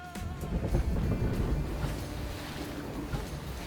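A speedboat races across the open sea, giving a loud, steady rush of engine rumble, wind and splashing water that swells early and then holds, with no voices.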